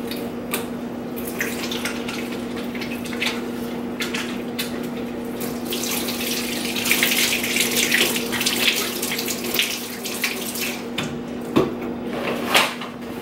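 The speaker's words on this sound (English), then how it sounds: "but first let's wash these hands." Tap water runs steadily into a sink as hands are washed before cooking cauliflower fried rice with frozen shrimp, a continuous close splash with a faint hum underneath and small clatters near the end.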